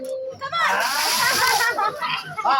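Colored water thrown at a haldi ceremony, splashing and sloshing in close, continuous bursts while people talk over it.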